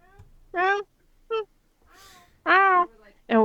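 A person's voice imitates a cat meowing, giving three loud, drawn-out, harmonic meows at uneven intervals with a short quieter mew between them.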